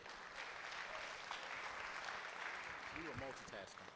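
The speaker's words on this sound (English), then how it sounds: "Give yourself a round of applause and take a seat" A conference audience at a sales talk claps in a steady, dense wash of applause that holds throughout, and a speaker's voice starts to break in near the end.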